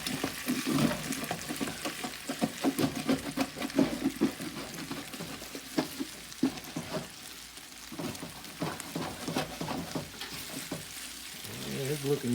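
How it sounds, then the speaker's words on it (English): A utensil scrapes the bottom of a pot of home-style beef stew, over sizzling liquid. The strokes are irregular and rhythmic at close range. "Get down to that bottom a little bit. Get some of that good stuff up out of there."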